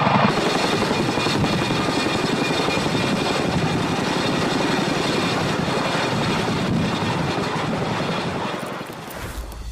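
A military helicopter flies nearby with a loud, steady rotor and turbine roar that fills the whole stretch, fading slightly at the end, with no talking.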